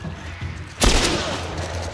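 Gunfire in the game The Last of Us bursts in loud and sudden after quiet ambience, a sharp broadband blast followed by a sustained roar of shots and echoing fire.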